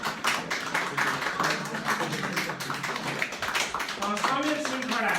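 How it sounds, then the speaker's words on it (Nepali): An audience at a Dhading Nepali Society community gathering in America claps to honour a new board member, uneven and close, with voices mixed in. "यस क्रममा हामी सबैले उहाँलाई तालीद्वारा सम्मान गर्न विनम्रपूर्वक अनुरोध गर्छु।"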